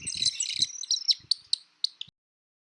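A pied kingfisher, a water kingfisher, gives a rapid run of sharp, high chirping notes that thin out into a few spaced calls and then stop, close and clear against silence.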